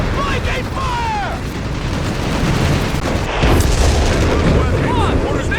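Heavy gunfire and booming explosions from the World War II strategy game Company of Heroes 3 in a 4v4 match, loud and continuous, with rumbling blasts and whistling shells, while soldiers' voices shout over the battle.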